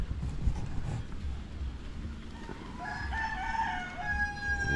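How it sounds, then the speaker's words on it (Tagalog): A rooster crows once in the background, rising and drawn out, over low outdoor noise. "pakainin niyo manok Loloboy"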